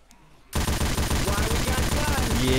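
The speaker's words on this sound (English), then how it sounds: "Heavy machine gun." A heavy machine gun fires in the video game Left 4 Dead 2. Rapid, steady automatic bursts start abruptly after a brief quiet moment and then hammer on loud and close without a break.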